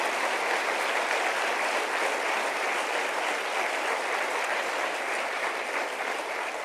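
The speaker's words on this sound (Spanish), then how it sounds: "Denle un aplauso al Señor" A church audience applauds during a sermon, with steady, dense clapping from a large crowd that holds evenly throughout and no speech over it.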